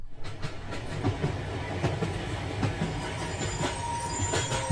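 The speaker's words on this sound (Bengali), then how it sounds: "গুমায় যখন ট্রেনটা থামলো" A train braking to a stop rumbles and clatters along the rails with wheels squealing, the steady mechanical noise continuing throughout, heard close by.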